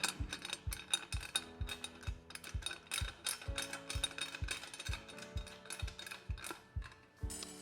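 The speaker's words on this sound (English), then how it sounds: "It's simply a matter of lining up the connector with the receiver and winding it in." A stainless steel cabinet connector being wound into its receiver on a kitchen frame, giving a regular ratcheting click that repeats steadily at close range with no talk.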